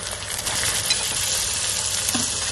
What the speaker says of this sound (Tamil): இப்போ நம்ம நல்லா வதக்கிக்கலாம்